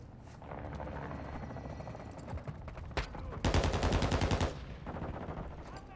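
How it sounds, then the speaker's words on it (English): A VTOL aircraft droning overhead in Modern Warfare 2 Invasion gameplay, with scattered gunshots and then a loud, sustained burst of rapid machine-gun fire before the engine rumble carries on. "Is that a VTOL?"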